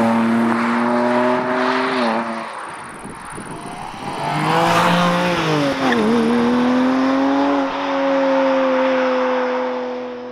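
A sports car, either a Porsche Cayman GTS 4.0 or a BMW M2 Competition with a 7-speed dual-clutch transmission, drives past with a loud engine note that rises and falls through gear changes, revving up and settling again.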